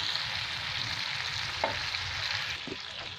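Chicken pieces frying in a pan for masala butter chicken give a soft, steady sizzle, fairly quiet and close, with a couple of faint clicks partway through.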